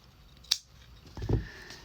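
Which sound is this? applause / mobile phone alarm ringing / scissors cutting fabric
scissors cutting fabric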